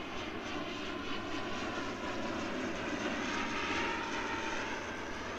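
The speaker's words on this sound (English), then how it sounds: "Beautiful ATR arrival here into Christchurch as well." An ATR turboprop airliner arrives at Christchurch Airport, its steady engine and propeller drone heard from a moderate distance, continuous and even throughout with no voices.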